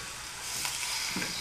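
Fish fillets frying in oil in a cooking pan, a steady close sizzle and crackle that runs without pause and swells slightly partway through.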